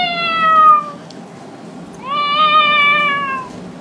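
A female singer vocally imitates a cat's meow, giving two drawn-out, rising-then-falling meows separated by a short pause, clear and close with no other talk.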